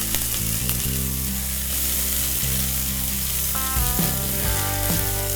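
Onions sizzle loudly in olive oil in a sauté pan over high heat, a steady crackling hiss that carries through with no talking, while low clinks and scrapes of a utensil surface toward the end.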